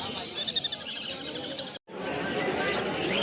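Caged birds chirp and tweet in a busy bird market at Mirpur, their high calls thick and continuous, broken by a brief cut and then resuming amid background chatter and crowd noise.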